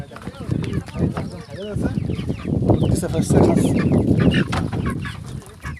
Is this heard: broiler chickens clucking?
yes